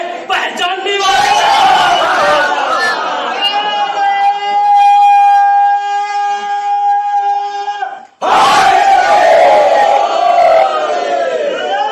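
A large majlis crowd at a religious gathering chants slogans in unison, loud sustained voices with a held tone, a brief break, then the chant surges again.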